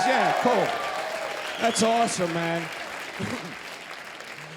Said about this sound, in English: Give a round of applause again, please.